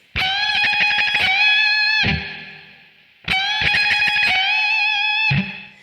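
Distorted electric guitar plays a riff, with string bends and fast picking, heard loud and alone in two matching phrases separated by a short pause.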